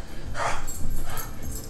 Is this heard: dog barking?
yes